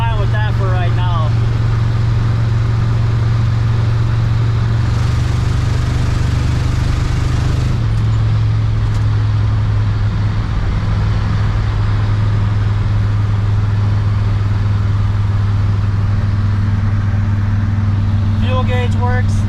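A 1972 Oldsmobile Cutlass engine drones loudly and steadily under road noise while driving, with a brief rise in pitch partway through and a person talking over it.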